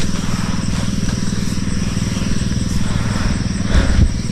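A farm spraying machine's engine runs steadily and close, a constant low rumble with a slight lift near the end.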